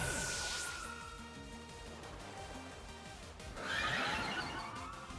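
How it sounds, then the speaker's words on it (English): Chilling Neigh horse whinny effect in a Pokémon battle video game, a loud, close synthetic neigh with a falling whistle at the start and a bright burst near the end. "And we get that Chilling Neigh."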